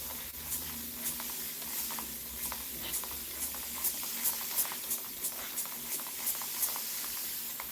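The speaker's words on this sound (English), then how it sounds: "You want a water spray?" A water spray bottle mists a pet bird, a soft steady hiss with repeated short trigger spritzes spaced through the clip, close and fairly quiet.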